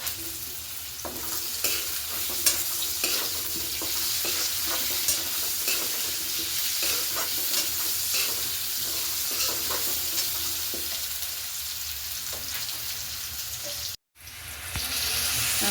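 Spices with turmeric and salt sizzle steadily as they are sautéed and stirred in a pan for an egg besan curry, a continuous close frying hiss with light scraping taps, cut off abruptly near the end.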